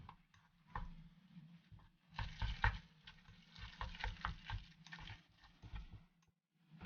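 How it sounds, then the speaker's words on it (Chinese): Chopsticks stirring a pepper, soy sauce and egg filling in a bowl, giving a quiet run of irregular light clicks and wet scraping, close and soft with no talk. "先用筷子搅拌均匀"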